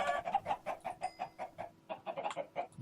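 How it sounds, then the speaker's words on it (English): Chickens cluck in a video game, a steady run of short rhythmic clucks and squawks at moderate volume, repeating about every quarter second with no talking over them. "Hopefully this is enough chickens."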